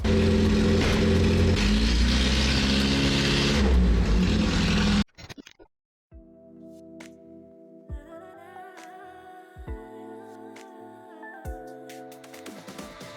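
A Zhiguli car with freshly painted rims and tyres pulls out, its engine loud and rough for about five seconds before cutting off abruptly, followed by quieter tonal sounds.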